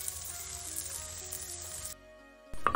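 Whole spices and onion fry in a pan for a green beans dish, producing a soft, steady sizzle that cuts off abruptly, followed by a short quiet stretch and a brief clatter.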